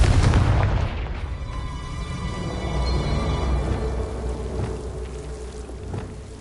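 In the Hogwarts Legacy video game, a Confringo fire-blasting spell sets off a loud booming explosion, followed by a rumbling, crackling tail that slowly fades away.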